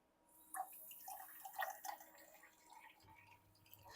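Water runs slowly from an Aquaphor Modern water purifier tap into a glass, heard as faint, intermittent trickling splashes and drips, with a low hum joining toward the end.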